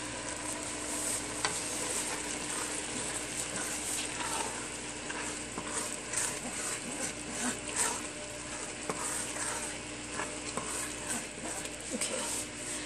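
Steady sizzling in a hot pot with soft scraping as rice and yellow lentils are stirred, a continuous frying hiss throughout.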